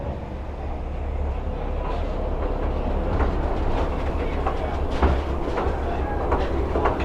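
The Pleasure Beach Express miniature train at Blackpool Pleasure Beach clatters steadily along its track nearby, a continuous rumble with rhythmic clicks and knocks.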